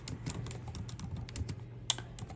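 Rapid keystrokes on a computer keyboard, a steady run of light clicks with one sharper tap near the end, over a low background hum.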